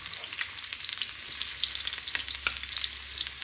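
Onions sizzle and crackle steadily in a hot pan, a close, dense frying hiss with small pops and occasional stirring scrapes, no voices.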